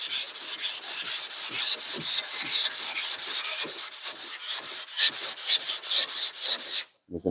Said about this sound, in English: I like to do a cross pattern on